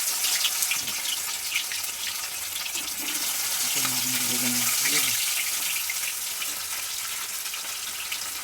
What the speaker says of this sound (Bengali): আর এরপর আমরা মাছগুলোকে ভেজে নেবো।